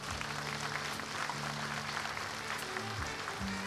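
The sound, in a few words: audience applause for contestants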